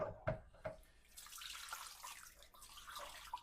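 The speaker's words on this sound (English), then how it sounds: "Just rinse it under the tap." A kitchen tap runs as a dusty item is rinsed underneath, a steady close splash of water with a few clinks and knocks at the start, no talk.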